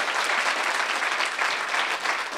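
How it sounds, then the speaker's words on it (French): Steady applause from an audience at a plenary session, dense and sustained for the whole stretch at moderate level, with no voices standing out. "On peut s'applaudir, oui"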